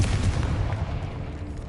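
A Confringo fire-blast spell in the video game Hogwarts Legacy booms with a dense, low rumbling blast that fills the short moment and slowly fades, loud and close.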